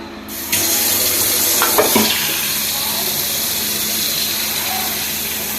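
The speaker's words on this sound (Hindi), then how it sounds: "अभी देखना कि इनसे कैसे बलबल निकलेंगे" Clay Diwali diyas soaking in a vessel of water, giving a continuous watery gurgle and fizz of bubbles after a sudden splash-like onset, steady and close with no talking.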